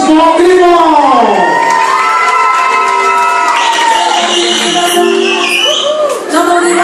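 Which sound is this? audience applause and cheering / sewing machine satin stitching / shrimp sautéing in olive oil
audience applause and cheering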